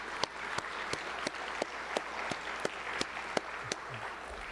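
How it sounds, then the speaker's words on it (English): Sparse, slow applause at a high school football ceremony, honoring the coaches' wives: a handful of distinct claps at a regular rhythm over a faint hiss of room noise, fairly quiet, with no voices. "The wives deserve a special round of applause for dealing with the coaches"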